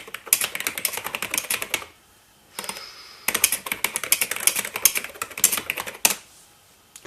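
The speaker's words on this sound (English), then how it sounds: "I can retype what I typed before and try to print it." Rapid, close typing on the keys of an Epson PX-4 portable computer keyboard, in two dense bursts of clicking separated by a short pause, then a final brief flurry.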